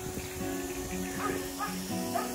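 A wet dog whimpering and yipping in hot weather in Valencia, thin high whines rising over steady background noise.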